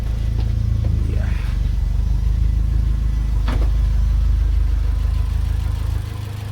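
A small Fiat Cinquecento Turbo engine idles steadily up close, a constant low throbbing rumble with a couple of brief light clicks, dropping slightly near the end.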